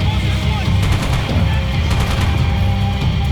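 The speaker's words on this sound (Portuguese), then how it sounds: "Tá atirando aqui que nem um maluco" Heavy bursts of gunfire crack loud and close in the video game Max Payne 3, firing in quick repeated volleys over a dense rumbling backdrop of action.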